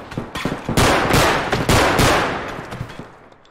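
Gunfire in the video game Bodycam, with bullets striking metal in a rapid, loud volley of sharp cracks and ringing impacts that trail off into echoing tail.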